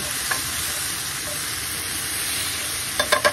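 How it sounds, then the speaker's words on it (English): Diced potato, frozen corn and diced tomatoes sizzle steadily in a hot pan while a spoon stirs, ending with a few distinct scraping knocks. "now give this a quick stir"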